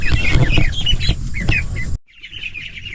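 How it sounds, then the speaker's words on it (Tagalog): Ducks on a farm squawking and quacking in short repeated calls, close and loud for two seconds before dropping to fainter, more distant calls. "Yung itik natin oh."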